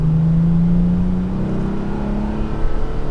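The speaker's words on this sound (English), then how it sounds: "So I'm gonna give it a little bit of gas just to see how well it gets up to speed here." A 2019 Toyota Tacoma TRD Pro pickup fitted with a TRD exhaust accelerates on the road, its engine drone steady and close, rising gradually in pitch, with no talking over it.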